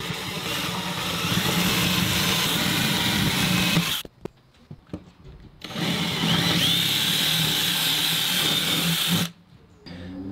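A power drill bores bolt holes 1mm oversize for an Anchormatic anchor installation, running as two long, loud, steady bursts of whirring with a short quiet break between them.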